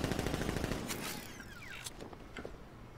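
Turret guns firing in Batman: Arkham Knight, a fast steady mechanical rattle that fades after the first second into quieter clicks and whirs, fairly faint overall.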